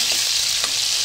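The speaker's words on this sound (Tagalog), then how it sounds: "dito nga guys ating pinapaso na po yung karne ng pork" Pork rib pieces sear and fry in a pan, giving a loud, steady close-up sizzle for about a second with no talking.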